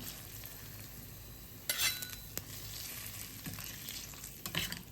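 Hot tempering poured into curd rice and stirred through it, a crackling sizzle with scraping spoon strokes and a few sharper clinks, steady and close with no talking.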